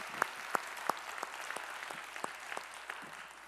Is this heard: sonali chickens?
no